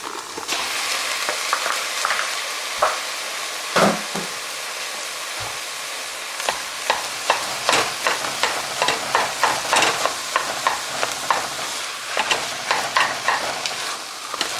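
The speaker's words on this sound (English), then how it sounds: "I'm going to add the meat now and let that cook up" Ground beef fries in a pan with a steady, close crackling sizzle, broken by repeated scraping clicks from stirring that grow busier in the second half, heard alone for about fifteen seconds.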